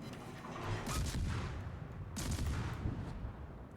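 Ship guns fire during a World of Warships naval battle, two heavy booming salvos about a second apart, each trailing into a rumbling roll over continuous low game ambience.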